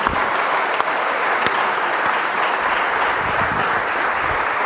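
A live podcast audience claps steadily to welcome a guest onto the stage, a dense, even wash of applause from a crowd that holds at a constant level throughout.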